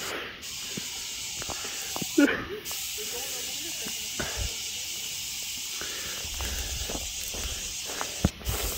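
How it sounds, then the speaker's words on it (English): Steady broadband hiss of a hose spraying continuously throughout, with occasional clicks and brief voices in the background. "So you can stop spraying it now."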